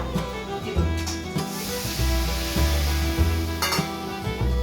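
Masala for a bitter gourd dish stirred in a cooking pan with a little water, rhythmic scraping strokes over a low sizzle and a steady hum, close by, with no talking.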